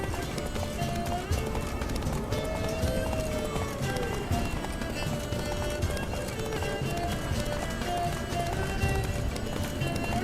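A horse gallops in The Witcher 3: Wild Hunt, its hooves drumming in a fast, continuous rhythm under game music, with a voice speaking over the ride.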